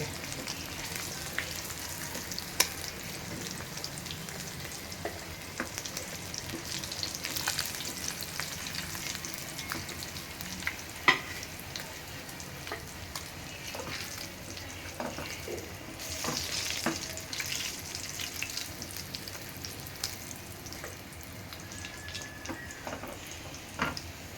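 Fish frying slowly in hot oil, a steady close sizzle with crackles and occasional sharp pops and stirring knocks running throughout, no voices.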